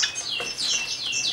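Emprit munia finches in a breeding enclosure give a run of repeated high, thin chirps, steady and fairly close, with no talk.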